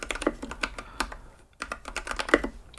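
Fingers type on the keyboard of an e-ink distraction-free writing device in quick, steady clicking bursts with a brief pause midway, close and soft.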